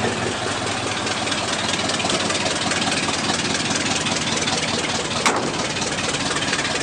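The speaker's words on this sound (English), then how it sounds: "You can hear that exhaust leak." An old truck engine with a major exhaust leak idles steadily nearby, a continuous rough low rumble with a brief sharp click near the end.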